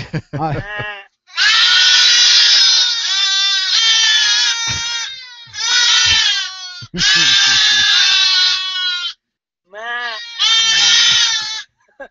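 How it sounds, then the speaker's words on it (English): Baby goats bleat loudly in long repeated bursts, heard from a played recording, with a voice calling "meh" to them among the bleats and the kids answering back. "a guy with a bunch of baby goats, and he's talking to them"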